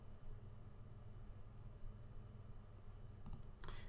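Two short clicks of a computer mouse near the end, crisp and close, set against a steady low hum and hiss of background noise.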